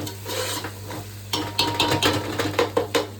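Onions frying in a pan with rock salt for a country chicken curry, a steady low sizzle broken by repeated close scraping stir strokes against the pan, loud and clear with no talk.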